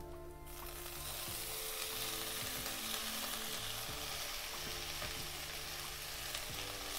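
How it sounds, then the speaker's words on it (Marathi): A wild leafy vegetable tossed into fried onions in a pan, setting off a loud, dense, continuous sizzle that holds steady throughout, with occasional stirring scrapes and clicks close by, no talking. "कांदा पण परतलाय, आता भाजी टाकून घेते।"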